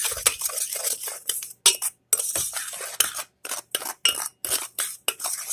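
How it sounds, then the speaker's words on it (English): Dry chocolate pudding ingredients with cornstarch are stirred in a bowl, a rapid rhythmic run of scraping and clinking strokes with short pauses, close and fairly loud, with no talking. "we're going to mix that all together"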